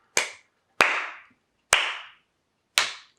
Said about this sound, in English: You can clap real loud right next to it and it'll work.